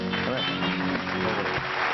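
Audience applause for Babar on a Pakistani TV talk show studio stage, a brief dense wash of clapping with voices talking over it.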